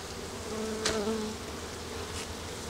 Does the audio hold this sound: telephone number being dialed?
no